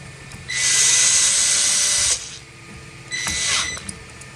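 A power tool drives M4 bolts to secure side rails to frame knuckles: a loud steady whine runs about a second and a half, then a second shorter burst follows after a pause, close and alone.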